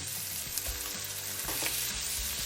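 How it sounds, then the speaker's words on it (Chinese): Shredded chicken and onion stir-fry in a wok for curry chicken fried rice, a dense loud sizzle with a few scraping spatula strokes, close and without voices. "洋葱爆香以后，咱们将切好的鸡丝倒进去"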